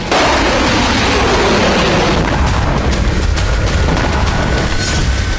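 Missile explosions during a strike on Kyiv roar as one loud, continuous rumbling blast with crackling bursts near the end, dense and close, with no voices.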